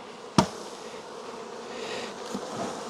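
Package honeybees buzz steadily as they are dumped from their cage into a hive, a sharp knock near the start followed by a continuous close, loud swarm drone.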